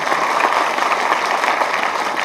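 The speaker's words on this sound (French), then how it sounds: "Je vais vous demander de les applaudir très très fort." Audience applauding loudly and continuously, a thick, even roar of many hands clapping close by with no breaks.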